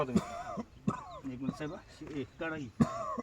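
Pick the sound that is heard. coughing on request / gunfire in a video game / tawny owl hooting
coughing on request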